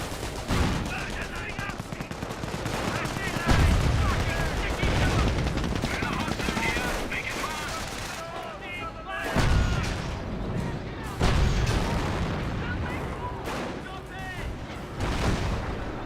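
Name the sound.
Pak 38 anti-tank gun firing in Company of Heroes video game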